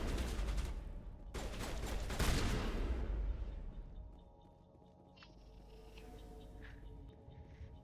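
Shotgun blasts in the video game Mass Effect come as a few heavy booming shots in the first seconds, with a louder cluster around the middle. Quieter game ambience, faint clicks and tones follow.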